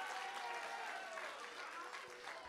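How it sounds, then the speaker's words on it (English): A theater audience applauds at a school event, a continuous wash of clapping from a crowd that holds steady for a couple of seconds at moderate level. "Give yourselves a round of applause for coming out tonight."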